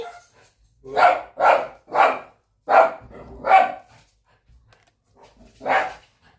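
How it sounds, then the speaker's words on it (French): Dogs at a house bark loudly and close by, a run of five sharp barks in quick succession, a short pause, then one more bark, with no talking in between. "vous avez entendu les chiens aboyer"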